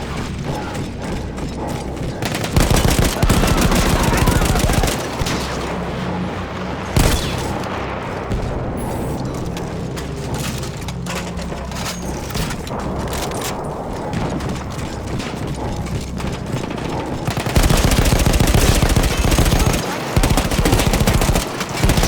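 A mounted machine gun fires in Battlefield 1, with long, loud, rapid bursts over a dense battlefield din of mechanical clatter and explosions, sounding close and persistent throughout.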